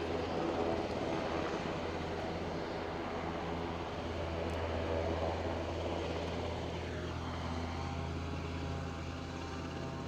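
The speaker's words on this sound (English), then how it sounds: "from Gamma Aviation, we have a Beach King Air 200." A Beechcraft King Air 200 turboprop from Gamma Aviation at Aberdeen airport gives off a steady, fairly loud propeller and engine drone that holds for the whole stretch with a low hum underneath and no talking.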